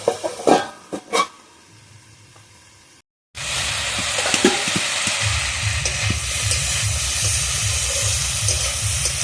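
Vegetables for a pumpkin-greens chorchori with jackfruit seeds, papaya and shrimp fry in hot oil in a pan; after a few faint clicks and a brief silence, a loud, continuous close-up frying hiss takes over.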